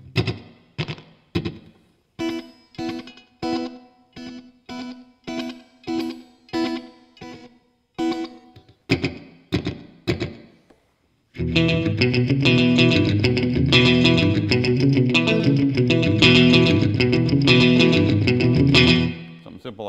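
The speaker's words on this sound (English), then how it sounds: "for maybe something in the kind of more traditional slapback style" Electric guitar played through a JHS Pedals 3 Series delay pedal set for short slapback, first as a run of separate picked chords with quick echoes, then a loud sustained strummed passage, no talking.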